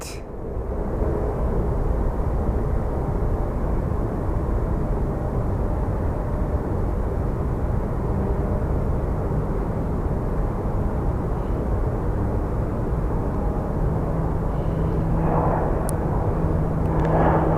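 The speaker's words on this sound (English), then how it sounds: "So this plane is landing on runway 8." An airplane coming in to land on runway 8 at Phoenix Sky Harbor airport, its engines a loud, steady roar that holds throughout, with no talk over it.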